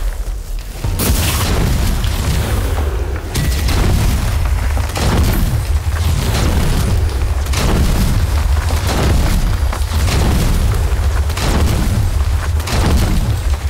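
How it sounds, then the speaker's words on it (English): Grenade blasts in the video game Strange Brigade land as a run of heavy, loud booms roughly every two seconds, each with a deep rumbling tail and no clear talk over them. "Watch out! Grenade!"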